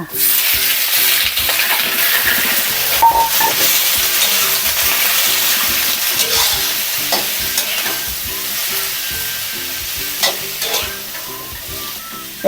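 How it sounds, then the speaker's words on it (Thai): Shrimp and squid are stir-fried in a pan for seafood rad na, with loud, continuous sizzling and repeated rhythmic scraping and tossing strokes that ease off slightly toward the end. "เดี๋ยวเราก็จะมาผัดกุ้งกับปลาหมึกรอไว้นะคะ"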